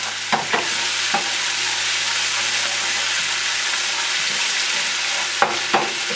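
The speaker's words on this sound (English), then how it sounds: "we're going to dump our garlic and our ginger in here. And we just want to stir this up till it becomes fragrant" Garlic and ginger sizzle loudly in a hot pan in a steady, dense hiss while being stirred, with a few soft scraping strokes near the start and end and no voices.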